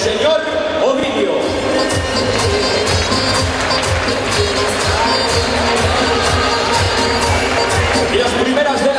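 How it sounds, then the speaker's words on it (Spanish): A crowd at a boxing event in Gijón, Asturias, applauds the referee with dense, steady clapping and cheering that lasts throughout, with a voice also heard over it. "para el que pido un grandísimo aplauso"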